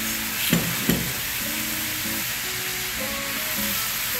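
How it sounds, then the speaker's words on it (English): Rice poured into a hot pot for a Trinidad-style bhaji cook-up with smoked bones sets off a steady sizzle, with two sharp clatters near the start and some stirring, close by and with no talking. "I will now add my rice to the pot."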